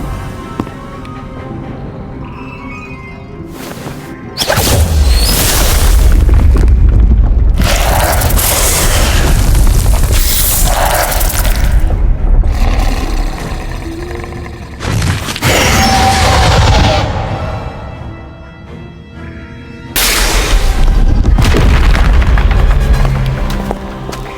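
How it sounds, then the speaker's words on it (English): Repeated heavy booms and crashing blasts as statues are blown apart in the Harry Potter: Magic Awakened game, loud bursts arriving in separate waves with short lulls between them and no talk. "What a mean thing to do, destroying perfectly nice statues."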